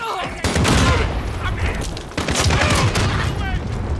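Secondary gun in a shooter video game firing in rapid bursts, loud and close, with a short pause midway before firing resumes.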